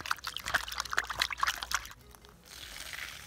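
Water pours and splashes over Banga Mary fish as they are washed, a close, irregular sloshing and trickling that eases into a softer, steadier flow near the end.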